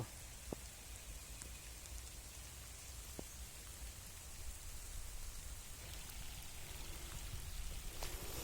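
Steady rain falls over green rice fields near a rural home, a dense, even hiss of drops on surfaces that continues throughout and swells slightly toward the end, with no voices.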